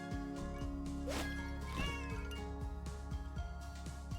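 A small kitten meows twice, loud and close, amid faint rustling and soft knocks as it crawls over plastic film.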